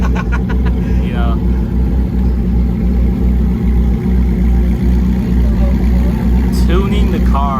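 A Koenigsegg Jesko engine idles with a low, steady rumble throughout while its tune is adjusted from a laptop, and people talk over the constant drone.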